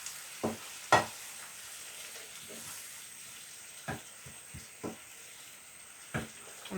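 Quiche filling of mushroom, ham and cheddar cooks in a pan over lowered heat, a steady soft sizzle with several sharp clinks and scrapes of a utensil stirring against the pan.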